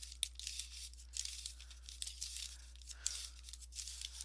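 A paper bag being creased and folded down by hand while making a recycled basket, giving steady crisp crinkling and tearing-like rustles with a few sharper crackles, close and fairly quiet, with no talking.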